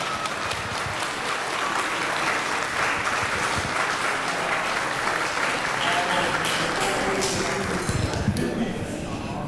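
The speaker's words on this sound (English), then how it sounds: "You can give her a round of applause," Wedding reception guests break into sustained applause, a dense, even roar of clapping lasting throughout, with cheering voices and chatter mixed underneath.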